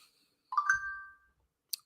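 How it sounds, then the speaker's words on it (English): Phone notification: a short melodic two-note chime that rings out and fades in a quiet room, followed by a single faint sharp click. "the phone is pinging"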